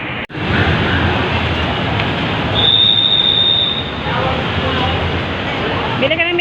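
A light rail train in Manila rumbles past steadily with a brief high metallic squeal of wheels, crowd murmur mixing into the continuous roar.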